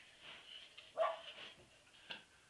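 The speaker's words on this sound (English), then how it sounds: "10-pound dogs attacking something" Small dogs of about ten pounds give a few quick, faint barks and yips from some distance away, short bursts with gaps between them.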